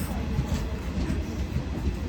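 A train rumbles along steadily, a continuous low rolling noise from the carriage with faint rhythmic rattling.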